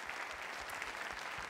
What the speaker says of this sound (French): Vous applaudissez les vignerons de Buzet parmi les nommés